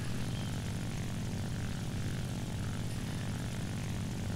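A N1K2-J fighter's radial engine drones steadily in War Thunder, a loud, continuous, throbbing propeller roar with no break, heard alone without voices.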